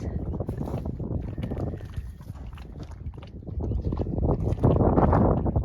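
A motorboat engine drones steadily at sea, with rough wind buffeting and water noise rising louder toward the end.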